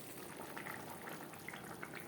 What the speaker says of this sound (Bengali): 2-3 মিনিট গ্রেভি বেশ ভালো করে ফুটিয়ে নেওয়ার পর